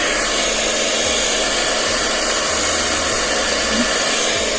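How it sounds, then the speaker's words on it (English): A blow dryer on cool setting drying hair runs continuously at close range, a loud steady whooshing roar with no talking over it. "Then we're taking the blow dryer."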